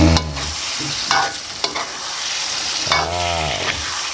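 Tempoyak sizzles and fries in a pan while being stirred, a loud continuous crackle with the scrape of a spatula sweeping through it several times.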